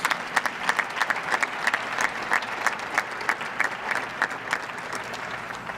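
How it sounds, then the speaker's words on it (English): A school district audience applauds employees being honoured at a retirement and recognition program, a sustained, moderately loud round of clapping with individual sharp claps popping out of the steady crowd noise. "Let's have a round of applause for our 20-year recipients."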